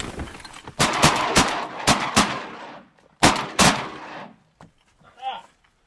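Shotgun shots during a duck and goose hunt outdoors: two loud volleys of several rapid blasts each, close and sharp, with a brief pause between them and faint voices near the end.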